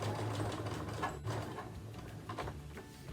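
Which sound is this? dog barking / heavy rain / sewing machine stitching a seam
sewing machine stitching a seam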